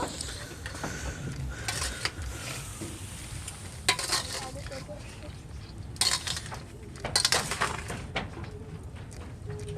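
Fried rice being tossed and mixed in a pan, with a steady sizzle underneath and irregular bursts of spatula scraping and clatter, close and moderately loud.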